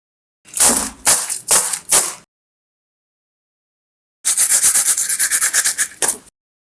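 Crispy fried potato wedges crunched close up: four sharp separate crunches, a pause, then a longer rapid run of crackly crunching bites, loud and alone.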